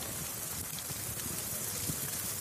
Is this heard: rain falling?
yes